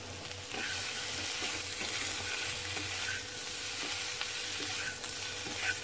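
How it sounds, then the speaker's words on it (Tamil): A potato fry stirred in a pan scrapes steadily over a continuous close sizzle, with spatula strokes repeating every second or so and no talking. "நல்லா அதை பிரட்டி விடலாம்"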